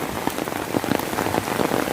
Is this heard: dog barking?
no